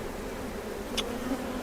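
Honey bees drone around a hive in a steady, close buzz that holds level throughout, with one brief tap partway through.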